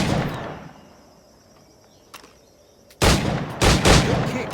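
Musket shots from Assassin's Creed IV Black Flag ring out as two or three loud, close blasts in quick succession, following a few seconds of near silence.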